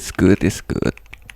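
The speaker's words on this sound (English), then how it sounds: "Typing sounds nice, feels nice." Typing on a computer keyboard fitted with new keycaps, a few quick light clicks trailing after a burst of speech from a nearby voice.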